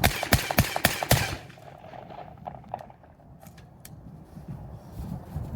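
An AR-style 12 gauge riot shotgun fires a rapid string of about half a dozen sharp, loud blasts outdoors. Quieter ambient noise and a few faint clicks follow.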